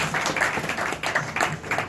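A church congregation claps in a steady rhythmic beat, with bursts of hand claps repeating every quarter second or so and filling the room at moderate loudness.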